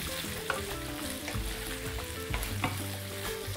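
Drained potatoes sizzle steadily in a hot pan, a soft continuous frying crackle with occasional stirring clinks and scrapes, no voices.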